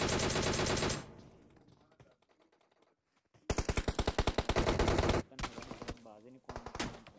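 Automatic gunfire in a PUBG tournament match comes in loud rapid bursts, one at the start and a longer volley in the middle, with quieter gaps between.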